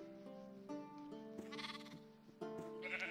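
Sheep bleat in the block-building video game Terrafirmacraft. Several wavering, nasal calls overlap at moderate volume, with no talking.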